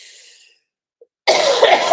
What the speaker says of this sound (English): We're going to give one last like cough